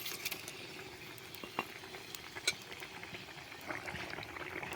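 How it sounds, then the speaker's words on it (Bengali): Parshe fish curry broth simmering over a wood fire as fried fish pieces go into the pot, giving a soft, steady bubbling hiss with a few faint splashes and clinks, quiet and close. "তো ঝোল ফুটছে, দিয়ে দিলাম ভাজা মাছগুলো।"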